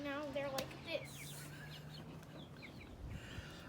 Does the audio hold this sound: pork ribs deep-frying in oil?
no